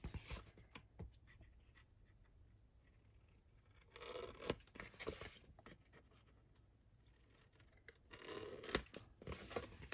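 Scissors snipping the corners out of fabric wrapped around chipboard for a messenger bag, two close bursts of crisp cutting and fabric rustle separated by quiet handling, faint overall.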